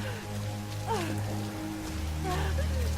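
Storm rain in the Tomb Raider video game, a steady wash of rainfall over a low rumbling bed with game music tones and brief voice sounds above it.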